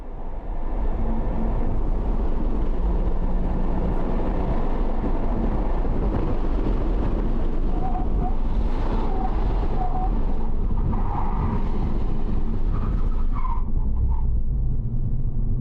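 A Honda Civic Type R FK8 roars continuously at close range while accelerating on a race track, its engine note loud and sustained with a rising whine late on.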